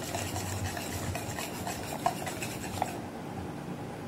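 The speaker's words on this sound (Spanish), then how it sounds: "Ahora vamos a mezclar los ingredientes secos" Dry ingredients for hot cake batter are stirred together in a bowl, making a continuous close scraping and rubbing with a couple of light clinks before it stops.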